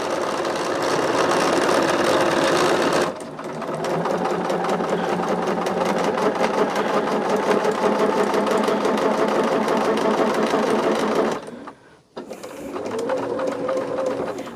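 A home sewing machine stitches a pinned quilt seam on a Color Burst throw, a steady close-up whirring chatter of rapid needle strokes that runs continuously, pauses briefly near the end, then resumes.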